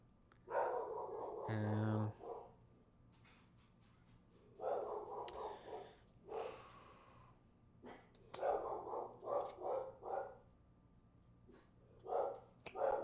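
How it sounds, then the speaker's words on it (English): Several dogs bark in short bursts and clusters at a medium distance indoors, the barking recurring through the stretch with quiet gaps between volleys. "Sorry if you can hear the dogs barking."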